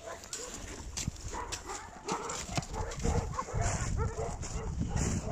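Dogs bark around a small pony, with hoof clops and shuffling in an outdoor farm setting; the barks come in short bursts over steady background noise, with no speech.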